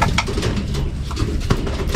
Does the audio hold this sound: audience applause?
no